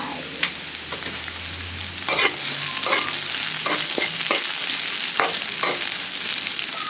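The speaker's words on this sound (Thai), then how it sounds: "ผัดให้หอมๆสักหน่อยก่อนค่ะ" Garlic and chili are stir-fried in a hot pan for a Thai basil dish with fried mackerel. A steady, close sizzle runs throughout, broken by repeated sharp scrapes and knocks of the spatula, and no one speaks.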